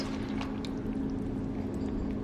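Sauce poured into a pan holding eggs, a steady, close liquid stream over a constant low hum, with no voices.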